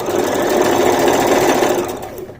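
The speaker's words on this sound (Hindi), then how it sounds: "एक पैर का मार्जिन लेते हुए हमें सिलाई लगानी है।" A sewing machine stitches a trouser seam with a fast, continuous mechanical whir. It is close and loud throughout, then tapers off at the end.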